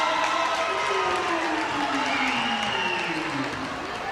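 A crowd at a women's college basketball game cheers and applauds after a made three-pointer, a loud sustained roar with an announcer talking over it.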